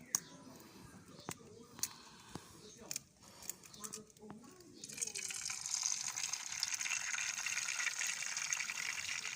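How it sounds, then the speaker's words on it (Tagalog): Cooking oil heating in a frying pan: a few faint clicks and taps give way midway to a steady, broad sizzling hiss that holds at a moderate level to the end. "at nagpapainit ako ng mantika"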